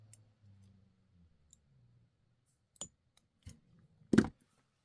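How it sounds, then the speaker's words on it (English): Jewelry wire snipped with cutters for charm making: a few sharp, isolated clicks and snaps, the loudest near the end, over a quiet background with faint low handling noise. "And then I cut about a 1/4 inch."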